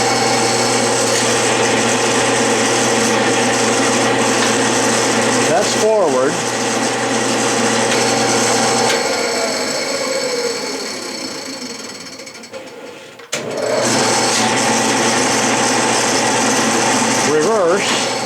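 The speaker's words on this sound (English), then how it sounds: "I put the lathe in back gears, and of course I can get it to revolve in either direction" Metal lathe in back gears grinding loudly with a steady, noisy mechanical drone, running forward, briefly winding down and stopping, then starting again; someone speaks briefly over it.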